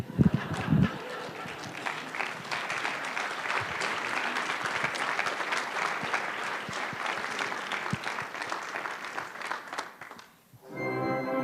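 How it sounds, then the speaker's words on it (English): Sustained audience applause for the announcement of a new university president, broad and steady for about ten seconds before cutting off, then resuming briefly at the end. "if you gave me one clap, that'd be like a standing ovation"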